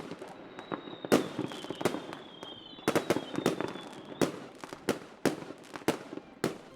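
Fireworks at a grand outdoor celebration, a dense run of sharp cracks and bangs with whistling streaks rising between them, moderately distant and quiet.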